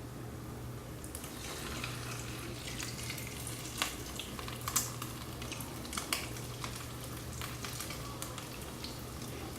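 Piroshki fry in a pan with a steady, close sizzle and crackle, a few sharper pops and spatters rising now and then above the constant frying hiss.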